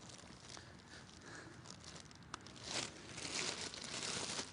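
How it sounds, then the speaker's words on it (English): A plastic bag is pushed into the netting on the arm of a cooling or heat-protection setup, giving soft, faint crinkling and rustling that grows a little busier near the end, with no speech. "One plastic bag gets inserted into the netting here on each arm."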